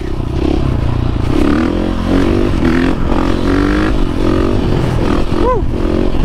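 Motorcycle held in a wheelie through a McDonald's drive-thru, a loud close engine that revs and drones with shifting pitch, mixed with scraping and clattering noise and a sharp rising whine near the end.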